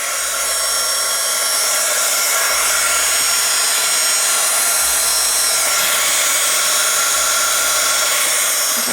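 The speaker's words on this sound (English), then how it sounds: "I'm going to take my embossing tool," Embossing heat tool warming up, a loud, close, steady blowing whoosh with a bright whine that runs continuously and alone.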